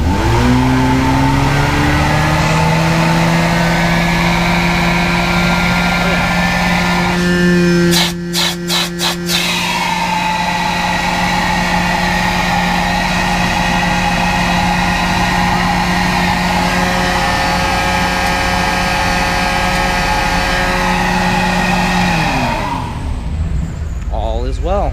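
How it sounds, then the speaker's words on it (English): A 1998 Dodge 1500 pickup truck engine runs steadily and close, with a sustained rev. Brief clicks come partway through, and the engine winds down near the end. "It should rev up the engine and turn that clutch on."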